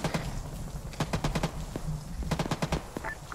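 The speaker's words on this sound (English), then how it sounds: "Enemy infantry, we are opening fire." Rapid bursts of gunfire aimed at enemy infantry in Arma 3, crackling in short irregular volleys at moderate distance over about three seconds, no talk.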